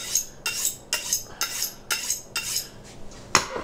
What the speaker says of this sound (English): take our knife and put it on a sharpening steel